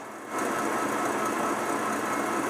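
An electric stand mixer whips egg whites for butterscotch meringue cookies, switching on after a moment into a steady, even high whir that stays constant and close.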